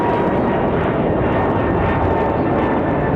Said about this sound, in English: Really big takeoff there for JetBlue.